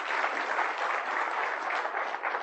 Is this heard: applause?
yes